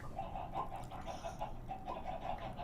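Chickens cluck and chatter steadily in a game's noisy chicken-reactor farm, a dense flock sound with repeated bursts over a constant machine-like hum.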